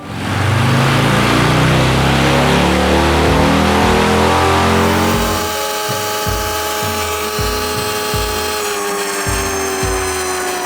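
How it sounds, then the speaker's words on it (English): A 117 cubic inch motorcycle engine idles with a steady hum and harmonic whine, then switches to an electric-vehicle sound mode, dropping quieter and smoother with soft rhythmic pulses, close by, no talking. "this 117 cubic inch engine now can whisper with the quiet sounds of an electric vehicle"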